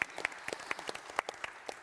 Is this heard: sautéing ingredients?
no